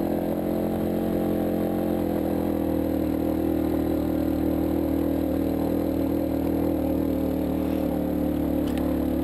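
A motorcycle climbs a steep uphill road in first gear, its engine droning loudly and steadily throughout at a constant labored pitch, close to the rider with no speech.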